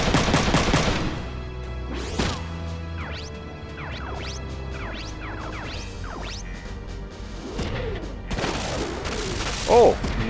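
Gunfire in the tactical mech game Front Mission 3 mixes with game music: a burst of rapid shots early on, then scattered impact and crash effects, and a louder hit near the end.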